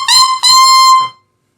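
A clarinet mouthpiece with its wooden reed, blown on its own, gives two loud, bright, reedy squawks with a short break between them, then stops.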